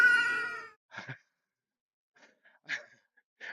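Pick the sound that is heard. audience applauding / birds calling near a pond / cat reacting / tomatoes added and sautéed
cat reacting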